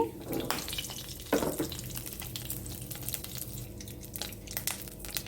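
Mustard seeds and cumin frying in hot oil for a tempering, a steady close sizzle with crackling pops and occasional stirring scrapes, fairly loud throughout.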